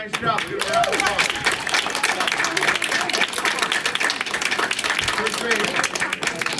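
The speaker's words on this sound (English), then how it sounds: "Give it a round of applause." An audience applauds a first grade class after its dance performance at a school event, steady clapping lasting throughout with voices mixed in.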